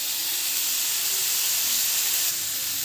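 Chopped brinjal hisses and sizzles in hot oil, a loud, dense, steady frying sound up close with no talk over it.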